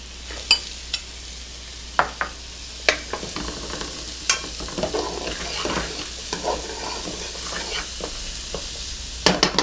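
Onions, garlic and carrots sauté in a pot for an Algerian loubia, giving a steady close sizzle broken by frequent sharp scrapes and clacks of a stirring spoon, with no talk.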